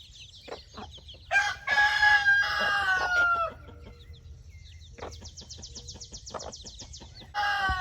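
Young chickens on a small farm cluck and chirp in bursts, with a rooster-like crow rising in the middle. The calls are close and fairly loud, broken by short quiet gaps, and nobody speaks.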